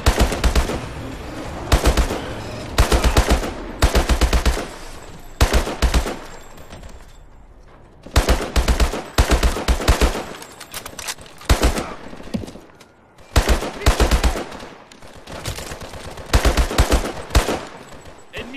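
Rapid automatic gunfire bursts from a naval battle in Call of Duty: Advanced Warfare, loud and near, coming in repeated volleys with brief gaps between them.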